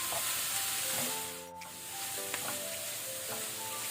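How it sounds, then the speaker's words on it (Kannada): Ground coconut paste with flat beans frying in a pan on a medium flame, a steady close sizzle with faint stirring scrapes, dipping briefly midway before the hiss resumes. "ಪುನಃ ನಾವು ಮೀಡಿಯಂ ಫ್ಲೇಮಲ್ಲಿ 1 ಮಿನಿಟ್ ಫ್ರೈ ಮಾಡ್ಕೊಳ್ಳುವ."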